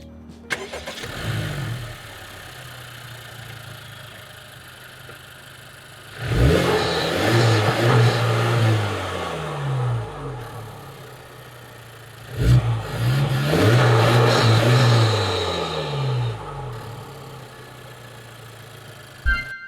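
A 2025 Acura Integra Type S's 2.0-liter turbocharged VTEC inline-4 engine revs in two long bursts from a low idle, rising and falling loudly, with quieter idling between the revs.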